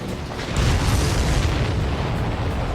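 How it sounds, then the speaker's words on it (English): An enemy aircraft explodes in the Ace Combat 7 combat flight game, a sudden heavy boom that swells into a loud, sustained rumbling roar lasting a couple of seconds. "Did you see that explosion? Looks like that's one of them down."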